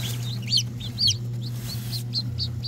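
Chickens and newly hatched chicks cluck and chirp in short bursts over a constant low incubator hum, several birds calling close by.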